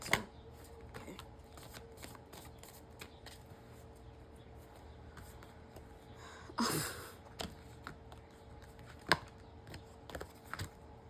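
Tarot cards shuffled by hand produce quiet, soft riffling and scattered light taps, with one brief louder burst of flicking partway through, otherwise faint and close.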